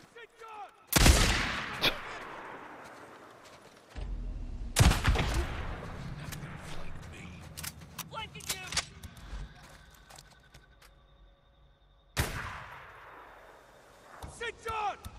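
Gunfire in Days Gone: several sharp, loud gunshots spaced seconds apart, each followed by echoing rumble, with scattered clattering in between and voices speaking at points.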